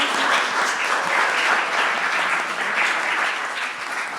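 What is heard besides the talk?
audience applause for Emily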